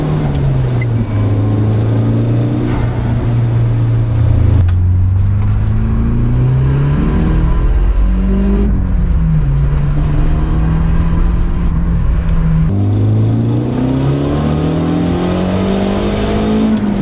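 Nissan 180SX 'Sileighty' engine heard close and loud, revving hard under throttle, its pitch climbing, dropping briefly at shifts, then rising again in sustained pulls.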